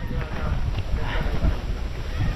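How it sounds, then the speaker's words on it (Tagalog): Steady outdoor wind buffets the microphone at a work site where four people are carrying cement, a loud continuous rush that fills the whole moment. "Sarap ng hangin."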